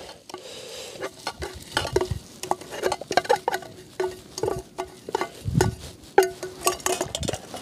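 Pancetta frying in a pan at a campsite while being stirred, with irregular scraping and clattering of a utensil against the pan over a light sizzle, close and fairly loud.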